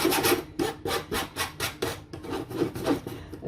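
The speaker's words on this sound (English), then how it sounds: "Now I have to sift the flour and then rub in butter with your fingertips." Flour being sifted through a sieve for scones, about a dozen rhythmic scraping, rubbing strokes in quick succession, close and fairly loud with no talking.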